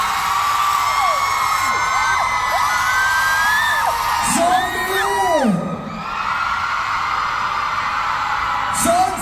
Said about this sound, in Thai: กองเชียร์ไหนขอเสียงโซน A หน่อยโซน A หน่อย